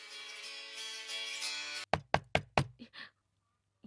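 Knocking on a door: five sharp, close knocks in a quick rhythm, then a softer trailing tap, following a sustained musical tone and then silence.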